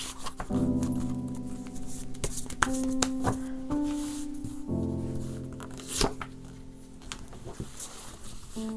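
Tarot cards are shuffled and handled during a reading, with soft papery rustling, riffles and light taps on a surface against steady background music, close and gentle.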